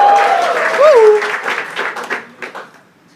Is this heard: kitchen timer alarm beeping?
no